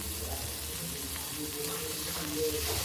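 Chopped tomatoes sizzle in a frying pan with chillies, ginger and garlic for Bengali-style katla kalia, making a steady, watery hiss close by that carries on evenly with no talk.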